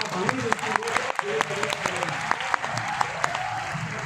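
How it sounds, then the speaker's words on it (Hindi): An audience at a comic poetry gathering during a festival in Kurukshetra applauds, with steady crowd clapping punctuated by sharp individual claps and voices talking over it throughout. "जोरदार तालियों के साथ"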